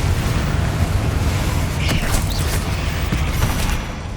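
Loud Confringo blast spell explosion in Hogwarts Legacy, a dense rumbling roar with crackling, creaking debris and a few sharp bursts, sustained for several seconds before easing slightly at the end.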